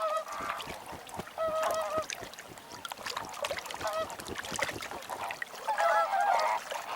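A flock of flamingos calls at an alkaline lake, with many honking, goose-like cries overlapping in quick bursts over a busy, splashing background.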